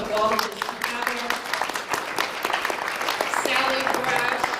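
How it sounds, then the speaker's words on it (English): An audience at a film screening event with speakers breaks into steady, sustained applause, a dense wash of clapping that stays loud throughout with a voice faintly underneath. "Jermaine Smith, I want to give her a round of applause"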